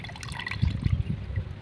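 Water being strained off freshly washed game meat in a home kitchen, a short, close run of splashing and trickling as the liquid drains out of a vessel.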